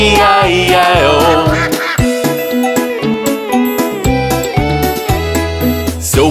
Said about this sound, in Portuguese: E nesse sítio tinha patos.